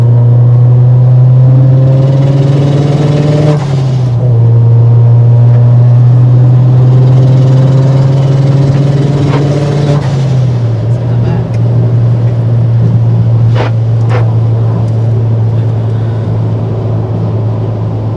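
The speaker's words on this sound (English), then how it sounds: "I'll just film the turbo flutter blow valve sounds for you guys to hear" Inside a 400hp turbocharged Mazda Speed3 on the highway, a loud steady engine drone shifts pitch between gears, with brief fluttering bursts from the turbo blow-off valve near the end.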